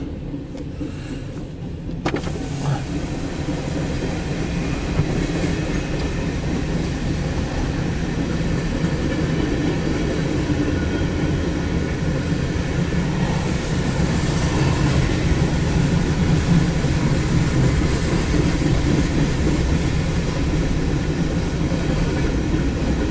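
A CSX Q301-14 mixed freight train rolls past on a two-track line, a loud, steady rumble and rattle of rail cars that holds for the whole stretch with no break.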